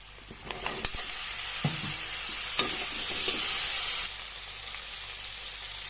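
New potatoes, chopped onion and a bay leaf frying in oil left over from frying fish for a prawn dish, with a steady loud sizzle throughout, a few clanking stirs of a spoon, and the frying sound dropping away sharply near the end.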